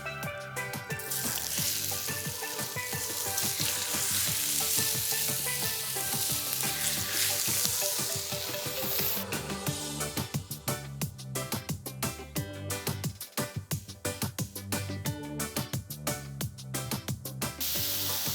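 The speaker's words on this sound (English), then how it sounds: "Once I have this shrimp on the grill, it's not gonna take too long" Shrimp sizzle on an oiled flat top grill, a loud steady frying hiss that runs throughout with light crackle and scraping stir sounds breaking in toward the end; no talking.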